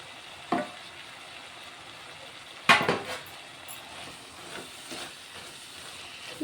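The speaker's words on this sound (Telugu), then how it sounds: "కొత్తిమీర వేసుకొని మంచిగా కలిపేసుకుంటే" Bottle gourd curry with fresh coriander being stirred in a pan: a soft steady sizzle with a few scraping clinks of a spoon against the vessel, quiet overall and no talking.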